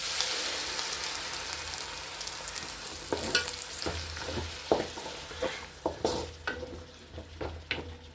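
Spinach puree bubbling and frying in an oil-slicked pan, a steady sizzling hiss broken in the second half by repeated scraping strokes of a spoon or spatula against the pan, fairly close and with no talking.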